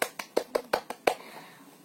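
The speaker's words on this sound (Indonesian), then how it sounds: "Ya, tepuk tangan untuk kalian semua." A short burst of about seven claps from a primary school class, quick and slightly uneven, fairly close in a classroom, fading into quiet room tone.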